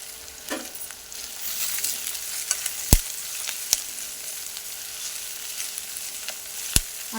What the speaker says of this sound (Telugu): పచ్చిమిరపకాయలు, కరివేపాకు, కొత్తిమీర, ఆలుగడ్డ ఇవన్నీ వేసి కొంచెం ఫ్రై అవ్వనివ్వాలి